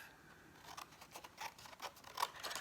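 Scissors trimming card paper for a layered greeting card, a few soft, quiet snips and paper rustles spaced irregularly, close by and without talk.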